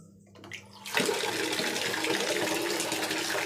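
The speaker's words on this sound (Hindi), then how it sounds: "अब पानी भरते हैं।" Water gushes from a tap into a bucket in a bathroom, starting abruptly after a quiet moment and then running steadily and loudly.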